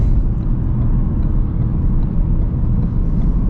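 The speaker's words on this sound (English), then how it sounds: "Two cars over there coming, let them pass" Cars pass on a road while a driver waits beside it in a tuned Ford Focus RS, a steady, loud low rumble of traffic with no talking.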